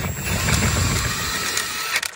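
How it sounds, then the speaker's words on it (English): An impact gun loosens the bolt on a Dodge steering wheel, giving a dense, loud mechanical rattle that runs continuously for about two seconds before cutting off. "Grab the impact gun, put it on right there."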